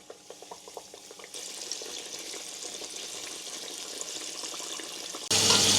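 Chicken pieces coated in flour and cornstarch are lowered into hot oil in a pan. A quiet hiss jumps to a loud, steady, close sizzle that keeps going, then swells even louder at the very end.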